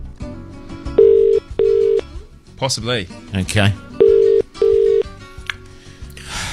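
Telephone dialing tones followed by repeated long ringback tones, loud and close on a radio show line, with people briefly talking in between the rings.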